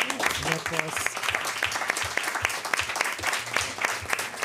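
An audience applauds at the close of a debate, steady dense clapping with a few voices mixed in, sustained and fairly close.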